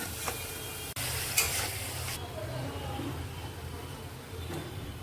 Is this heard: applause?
no